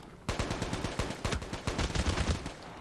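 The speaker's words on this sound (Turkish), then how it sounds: "Bana ateş ediyor." Rapid gunfire from a Call of Duty Mobile match, a dense stream of loud sharp shots with brief gaps, firing continuously after a short quiet start.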